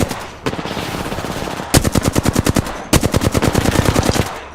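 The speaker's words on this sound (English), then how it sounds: "Firing a smart bullet." Automatic weapon fire from Apex Legends: rapid bursts of loud, close shots in tight rhythmic volleys, with a brief pause between two long strings of rounds and no talking.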